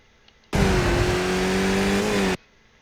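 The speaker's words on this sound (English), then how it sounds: "So on the throttle, working up the gears." Skip Barber race car in iRacing at Circuit of the Americas, engine revving loudly and steadily as it works up through the gears, a sustained close-up roar that starts abruptly and cuts off after about two seconds.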